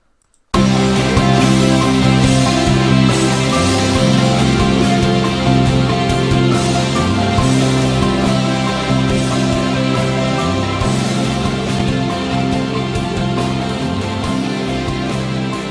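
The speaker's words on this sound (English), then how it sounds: "the song fades out, the reverb fades in" A song plays loudly and steadily with sustained tones in FL Studio, then gradually dims toward the end as reverb fades in, leaving a washy echo tail.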